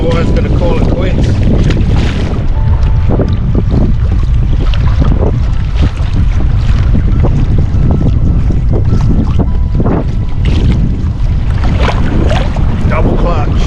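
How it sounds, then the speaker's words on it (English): A strong seaside wind buffets the microphone during crabbing from a boat, a loud, constant low roar broken by gusty thumps, with a voice speaking now and then under the rumble. "This wind has come up from out of nowhere and making it pretty uncomfortable."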